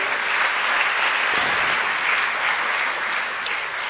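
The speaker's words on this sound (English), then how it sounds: "A big round of applause for all of our mothers who are here." A graduation crowd gives a loud, dense round of applause that stays even and sustained throughout, with no talk over it.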